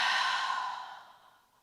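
A soft, breathy exhale through an open mouth during yoga breathing, one long sigh that starts fairly strong and fades away over under two seconds, alone and close.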